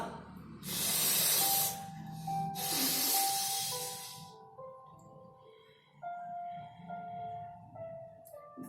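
Two long, forceful bursts of nasal exhalation during yoga breathing practice with the mouth closed, the first around one second and the second about three seconds in, each loud and airy, followed by soft sustained tones.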